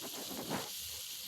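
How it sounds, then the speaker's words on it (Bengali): Tomato, green chilies and onions frying in a pan, a soft steady hiss with faint crackle, brief and fairly quiet, heard alone. "কাঁচামরিচ আর পেঁয়াজটা ভাজা ভাজা করব।"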